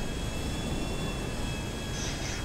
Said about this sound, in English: There's a plane up there.